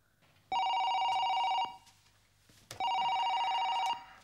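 A telephone in Madrid rings in two long electronic bursts, each about a second, separated by a short pause, loud and close with no talking.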